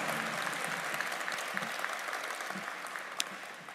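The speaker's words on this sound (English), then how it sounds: "Let's give them a round of applause" Sustained applause from the audience at a university commencement ceremony, an even, dense patter of many hands clapping at moderate distance, continuing without a break.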